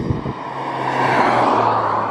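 Honda S2000 being driven on a short test run after a build, its engine humming steadily with a slight rise in revs, tyre and road noise beneath.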